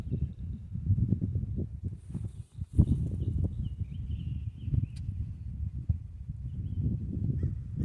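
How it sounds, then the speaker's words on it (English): Geese honk at the edge of a lake, a few scattered calls heard fairly far off over a steady low outdoor rumble of wind. "There's some geese there on the edge,"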